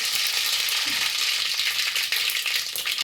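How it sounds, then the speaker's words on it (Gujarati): Mustard seeds sizzling and crackling in hot oil for tempering steamed khaman, a dense continuous fry hiss close up with faint popping, no talk. "તેલ આવી ગયું ને રાઈ નાખી દીધી છે"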